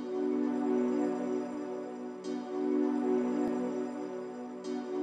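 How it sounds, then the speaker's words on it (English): A soft, sustained synth pad called Amber Glance drones steadily at low volume, its airy tone shimmering with faint swells. "It's just like a pad."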